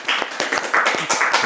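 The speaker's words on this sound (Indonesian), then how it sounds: "Tepuk tangan dong untuk Pak Bukti." Audience clapping for a high school principal at a school event, scattered claps from a small group repeating steadily at close range, with no talking over them.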